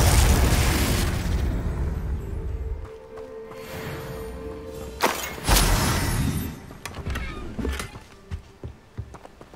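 A Confringo explosion spell in the video game Hogwarts Legacy: a rumbling blast at the start, then sharp bursts and booms in the middle, followed by scattered pops and crackles fading out.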